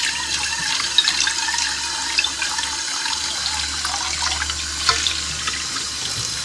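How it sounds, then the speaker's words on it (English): Hot tap water gushes steadily over cooked spaghetti noodles in a sink, a continuous close splashing rush with small shifts as the noodles are rinsed, and no talking. "We have to rinse out the noodles here."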